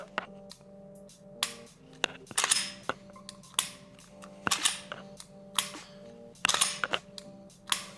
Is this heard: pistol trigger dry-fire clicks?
yes